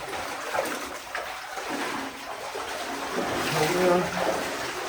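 Water splashing and sloshing around boots while wading down a flooded inclined shaft in Brandy Bottle Mine, 600 ft underground; soft, irregular trickles and splashes under people talking, swelling slightly toward the end.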